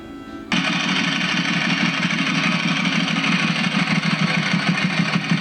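A Ducati motorcycle engine with a new exhaust fires up and settles into a steady, throaty idle with a rhythmic low pulse, loud and close.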